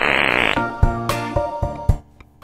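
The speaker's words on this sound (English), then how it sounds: "use the big fart button" A fart button app sounds off with a loud, rasping fart and then a series of short, punchy blasts spaced out in a quick, uneven rhythm, with no one talking.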